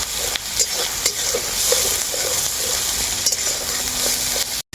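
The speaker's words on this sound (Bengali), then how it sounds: "এরপর আমি মশলাটাকেও খুব ভালো করে কষিয়ে নেব সব কিছু একসাথে" Spice paste sautéed in a pan for a pointed-gourd (potol) curry, a steady close sizzle with soft scraping stirs recurring throughout, no talk, cutting out briefly near the end.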